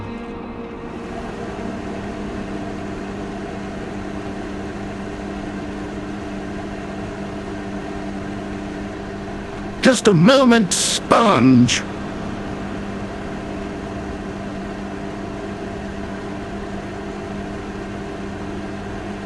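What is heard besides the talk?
microwave oven running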